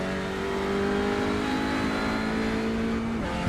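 A touring car engine in the iRacing sim holds a steady, loud, sustained note at high revs throughout, with the pitch dipping slightly just before the end.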